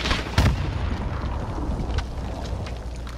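A grenade goes off in the Warzone video game: one loud, sharp blast near the start, followed by a rumbling, noisy battlefield ambience that holds steady at moderate loudness.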